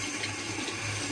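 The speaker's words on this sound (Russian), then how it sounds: "теперь я смываю этот скраб" Running water from a tap splashes steadily while face scrub is rinsed off at a bathroom sink, a close, continuous wash with no talking.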